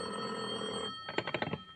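A telephone bell rings in quick, rattling bursts, close and clear, taking over from a sustained musical tone.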